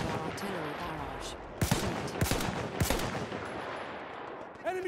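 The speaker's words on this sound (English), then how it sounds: "Enemy machine gun, sight him!" An enemy machine gun in Battlefield 1 rattles in several sharp bursts, loud and close, over a backdrop of battlefield noise with a voice speaking beneath.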